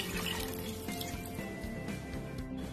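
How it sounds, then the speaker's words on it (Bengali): A little more water is poured into a pot of paneer khichuri as it cooks, giving a steady, close liquid pour and splash with faint dripping, continuous and moderately loud throughout with no voices. "আর একটু জল দিচ্ছি।"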